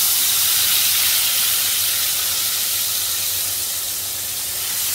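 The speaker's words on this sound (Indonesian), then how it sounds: "Sekarang kita baru nak tumis guna minyak." Oil hisses and sizzles steadily in a pan as aromatics are sautéed for a spicy peanut sauce, the same oil earlier used to fry tempeh, a close, continuous bright frying hiss with no talk.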